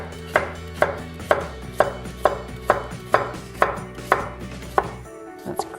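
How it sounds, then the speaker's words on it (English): A kitchen knife chops a cucumber into bite-sized pieces on a board, about eleven sharp, evenly spaced cuts in a steady rhythm, close and clear, with no talk. "I'm just going to cut it into nice bite-sized pieces down the length of the cucumber"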